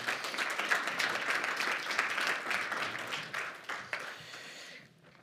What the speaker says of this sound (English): I just want to give a little round of applause and thank you guys all for coming.